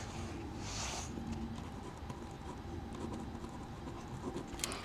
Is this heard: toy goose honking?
no